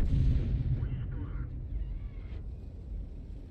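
Artillery fire in World of Tanks: a deep, rumbling boom opens and decays slowly over a few seconds, heavy and low, with a voice talking over it.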